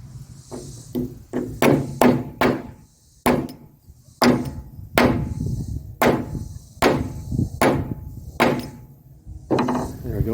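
A trailer wheel bearing cap hammered back into shape with a dozen or so sharp metallic strikes, loud and close, coming in uneven bursts separated by short pauses.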